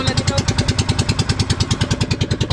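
A motorcycle engine idles roughly with a rapid, even pulsing chug, loud and close throughout.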